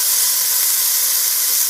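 Cubed andouille sausage, a pound of it, sizzles in a hot pot with a steady, loud, bright hiss that holds without a break.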